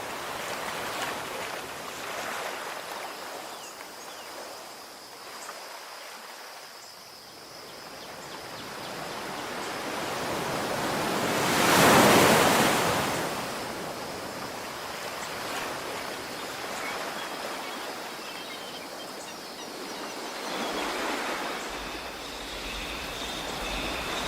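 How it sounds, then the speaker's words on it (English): Ocean waves and wind through trees on a virtual tropical beach, a continuous soft rushing wash that swells to a louder surge midway, then eases back. "you can actually hear the waves, and you can hear the wind through the trees"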